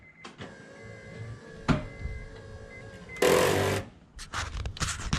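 The rear power antenna motor on an Acura Integra whirs with a steady mechanical whine, then gives a loud grinding burst and a series of clunks near the end, heard close up without talk.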